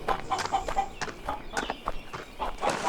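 Chicken clucks in short repeated bursts close by, mixed with irregular knocks and shuffling noises around it.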